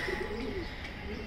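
Pigeons coo at morning feeding time, a low, soft, wavering coo over a faint steady background hum, with no speech.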